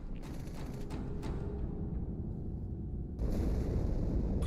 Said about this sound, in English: Die Explosion kam aus dem Innern der Athen